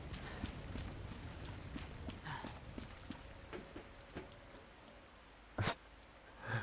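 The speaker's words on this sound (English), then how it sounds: "it's actually raining non-stop so much that everything is soaking and there's puddles everywhere" Steady rain in the video game Resident Evil 2, a soft continuous patter under scattered footstep-like clicks and thuds, with one louder splash or impact near the end.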